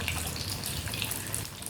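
Breadcrumb-coated chicken fries in hot oil over a medium flame, a loud, steady sizzling hiss with crackling pops all the way through.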